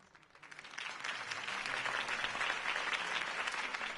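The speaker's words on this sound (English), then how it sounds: "If only Mr. Wayne, my campaign's largest backer, could have heard that applause" Crowd applause from a Batman video game, a dense, steady wash of clapping that swells in over the first second and holds at an even, moderately distant level.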